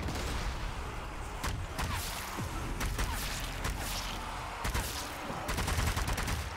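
Dense, continuous gunfire in the zombie shooter game Zombie Army 4, with rapid overlapping shots and bursts filling the whole stretch at a loud, steady level.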